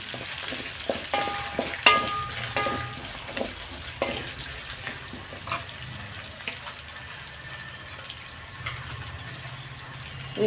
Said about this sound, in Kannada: ಈ ರೀತಿ ಇದನ್ನು ಸೇರಿಸಿ ಬ್ರೌನಿಷ್ ಬರೋವರೆಗೂ ಹುರಿಬೇಕು